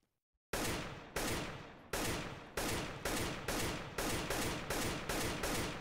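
Rifle fire in CS:GO while strafing comes as about nine loud single shots, each ringing out and fading before the next, at a steady, slightly quickening pace after a brief silence, with no voices.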